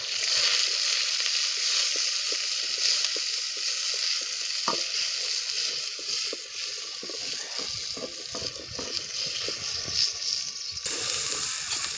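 Onions sizzling and frying in hot oil in a pan, with a steady crackling hiss throughout and intermittent scraping clicks as a ladle stirs them, close and continuous.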